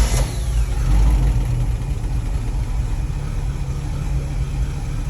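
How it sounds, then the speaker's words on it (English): Cold engine cranked once and fired up, settling into a steady running rumble that stays loud and continuous throughout, with no talk. "we're gonna crank it once and see if it starts"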